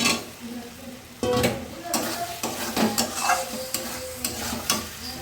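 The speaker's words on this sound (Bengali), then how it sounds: "মশলাটা কষানো হয়ে গেছে কমপ্লিট। আর দিয়ে দিচ্ছি আলু ভাজাটা" Fried potatoes tossed into a cooked-down spice paste in a hot pan, giving loud sizzling and crackling with repeated scraping stirs and utensil knocks against the pan, close up, with no speech.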